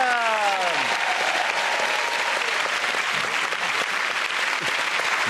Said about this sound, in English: Again, that round of applause to Frankie, Hugh and Adam.